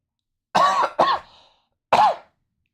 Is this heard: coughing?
yes